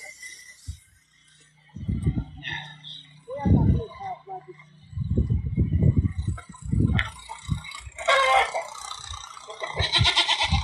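Sheep bleat repeatedly nearby, several overlapping calls, while people talk in the foreground.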